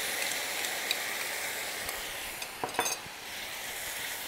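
Leftover marinade poured over browned chicken and its cooking juices in a hot pan, giving a steady broadband sizzle with a few soft clinks and stirring knocks partway through.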